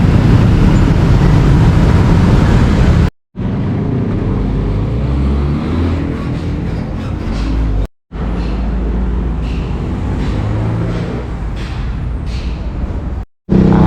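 Loud, rumbling ambience at Wongwian Yai railway station in Bangkok, beside a trackside market, with low engine drone and passing train noise, broken by a few abrupt silent cuts.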